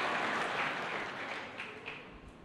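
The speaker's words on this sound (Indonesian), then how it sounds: "pura-pura tepuk tanganmu" Hands clap across a church congregation during a sermon, a moderate, even patter of applause that fades slightly toward the end, with no voices over it.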